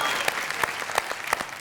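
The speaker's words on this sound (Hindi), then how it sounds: "ताली बजा रहे हैं" An audience at a Hindi-Urdu poetry gathering claps in a lively burst of applause, with crisp, scattered hand claps that fill the room up close.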